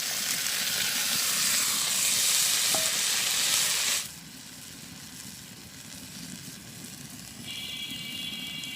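Fish and chillies fry in a pan during village cooking, a loud steady sizzle for about four seconds that then drops to a quieter, softer hiss for the rest of the clip.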